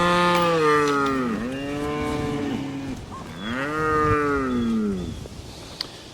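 Cattle on a small farm low loudly at close range, two long, drawn-out moos with rising and falling pitch separated by a brief pause, over faint outdoor background noise.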